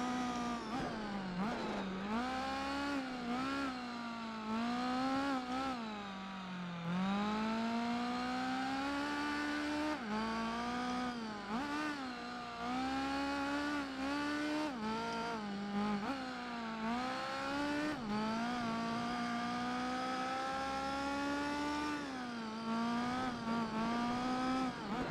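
A race car in Gran Turismo 4 loses grip on ice and slides. The engine note rises and falls steadily with revving and shifting pitch, close and continuous, with no voices.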